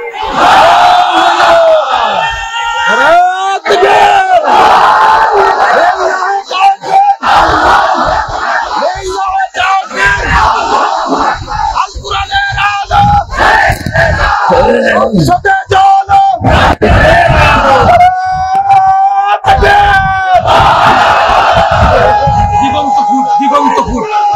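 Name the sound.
large crowd shouting takbir response at Islamic gathering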